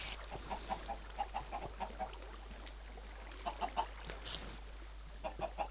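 Minecraft chickens clucking in a chicken farm in the video game, repeated short clucks in small bursts, fairly close over a steady low hum, with a brief whoosh partway through and no talking.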